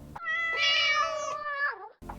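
A pet cat gives one clear, drawn-out meow of about a second and a half, close and loud, with a falling tail at the end.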